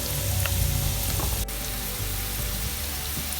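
Onions frying in a pan while being cooked brown for kadhi pakora, a steady broadband sizzle that stays fairly loud and continuous throughout with no voices.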